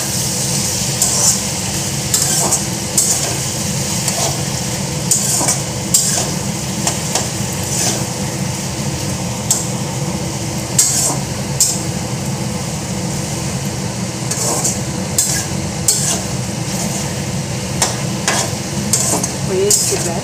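A pan of mixed vegetables is stirred, with repeated scraping and clinking strokes over a steady low cooking hum, close and fairly loud throughout.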